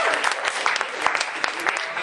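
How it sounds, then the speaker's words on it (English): An audience at an improv comedy show gives a short burst of steady clapping as two performers are called up, with crowd noise mixed in. "give them a round of applause"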